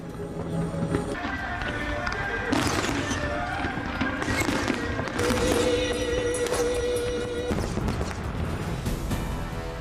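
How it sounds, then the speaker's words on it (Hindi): Lunar New Year fireworks show over Hong Kong with a horse theme, heard as dense, continuous bangs and crackles from mid-distance, with repeated bursts overlapping for the whole stretch under a steady crowd and ambient din. "हांगकांग में 23 मिनट तक चला आतिशबाजी का शो।"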